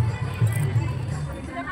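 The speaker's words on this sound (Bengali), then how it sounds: "তো সব প্যান্ডেলেই এরকম করে ভিড় হয়েছে।" Crowd noise at a busy Durga Puja pandal in Magura: a steady low murmur of many people with some footsteps, close by and continuous, with a voice talking over the babble.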